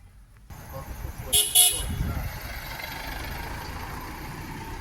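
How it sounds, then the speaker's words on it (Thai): Car horns give two short honks from passing vehicles on a road past a roadside shrine in Thailand, set against steady traffic and engine noise, with a faint voice in the background. "คนผ่านไปผ่านมาก็บีบแตรขอโชคขอพร"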